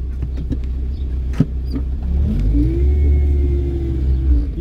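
A car drives slowly on a narrow village road in Serranos, Minas Gerais, its engine rumbling close by and rising as it manoeuvres and accelerates, with a few clunks and no talking.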